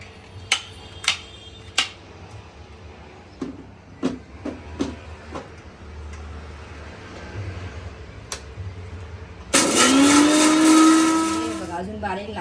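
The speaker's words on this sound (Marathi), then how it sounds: "आता मिक्सरला लावून घेऊया बारीक सुका ना पाणी बिणे न टाकता" A kitchen mixer grinder whirs loudly as it grinds dry Malvani fish fry masala without water, starting abruptly near the end after several sharp knocks and clicks.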